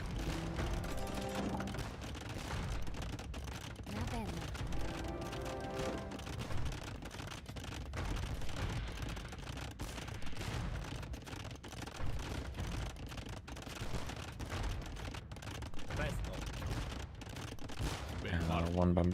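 Bombard cannons firing in a medieval real-time strategy game battle, a rapid barrage of sharp booming impacts and clattering hits layered over background music, continuous and busy with little pause.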